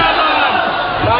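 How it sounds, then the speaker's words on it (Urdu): A large crowd at a religious gathering shouts slogans in unison, a loud, dense, sustained roar of many voices filling the whole moment with no pause. "بس بھائی اب نعرے نہیں لگانے"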